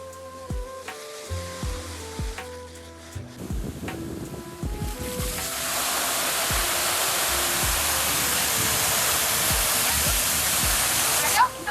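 Hidden waterfall at Uran, with people talking and music-like tones over the first half before a loud, steady rush of falling water takes over and continues to the end.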